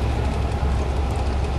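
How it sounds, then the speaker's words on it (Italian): A train overtaking a road vehicle on a left-hand-traffic road, heard from inside the vehicle as a steady, close, broadband rumble and rush with no talk. "ci ha superato il treno"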